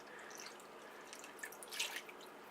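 A light water solution mixed with indigo powder trickles and splashes into a blender, a soft, steady liquid pour with faint drips, quiet and close with no talking.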